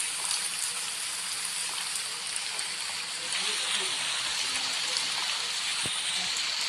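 Rain falls in a dark subway setting inside a horror video game, a steady hiss of drops and running water that continues throughout with a slight swell partway through.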